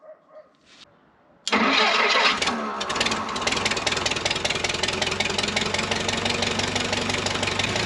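A 4x4 forklift engine cranks and catches abruptly, roaring loudly at first before settling into a steady, slightly knocking idle as it warms up, close by with no talking.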